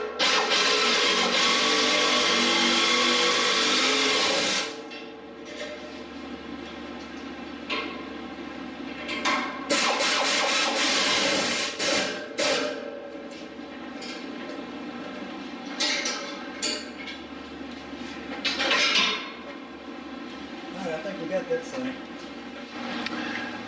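Bolts being torqued down on the brackets of a Ranch Hand Legend Series bumper and brush guard, with a loud, busy burst of tool noise at first, then repeated close mechanical clicks and ratcheting in an intermittent rhythm.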